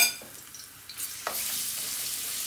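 Blended garlic drops into hot oil partway through, bursting into a sharp sizzle that settles into a steady, close frying hiss, with no one speaking.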